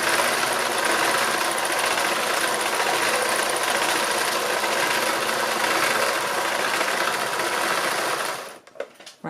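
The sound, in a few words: domestic sewing machine doing free machine embroidery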